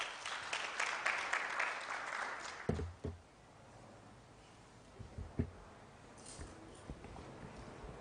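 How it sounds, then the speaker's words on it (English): Applause from a university audience at an event, loud and dense for about three seconds, then falling away into a quiet room with a few scattered thumps and shuffles. "Can we give her a round of applause?"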